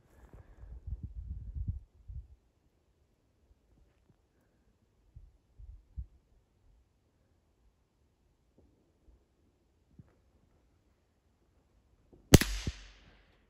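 Two sharp, distant rifle shots ring out several seconds apart during hunting practice, the first faint and muffled, the second a loud, crisp crack, with low rumbling handling noise early on.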